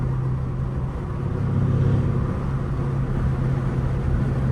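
A Mercedes W218 CLS550 fitted with downpipes rumbles with a steady, deep engine drone heard from inside the car, the note swelling slightly as it accelerates; no talking.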